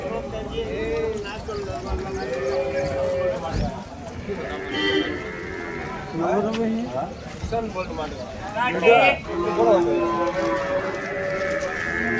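Cattle bellow and low at a busy cow market for draught bullocks in Vaniyambadi, with several calls rising over constant crowd chatter and someone speaking nearby.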